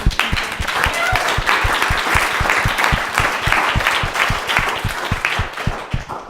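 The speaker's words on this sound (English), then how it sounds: "Let's give another round of applause for Robyn." A small audience claps after a tech talk, the individual hand claps distinct and rhythmic within a steady burst of applause that fades slightly toward the end, no voices over it.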